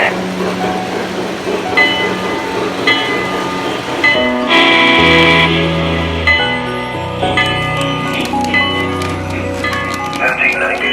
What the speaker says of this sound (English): Pennsy 9639, train is moving.